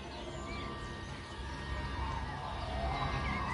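Birdsong in the game Everybody's Gone to the Rapture: scattered thin chirps and short whistled calls drift over a steady ambient outdoor bed, fairly faint and at a distance, with no one talking.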